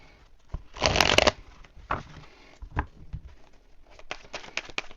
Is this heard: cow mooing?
no